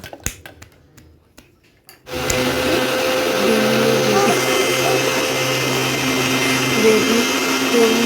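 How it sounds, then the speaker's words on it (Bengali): After a few seconds of clatter and talk, a mixer grinder starts blending lassi with ice, a loud steady whirring drone that continues to the end. "এবার আমি মিক্সির মধ্যে দিয়ে একটু ঘুরিয়ে নেব"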